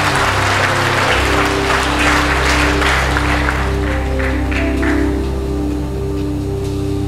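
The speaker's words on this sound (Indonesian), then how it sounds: "Sambut tepuk tangan yang meriah untuk Dewa Sulistia" A training-session audience gives lively applause for a participant, a steady, dense clatter of many hands clapping over a low, constant hum, tapering slightly near the end.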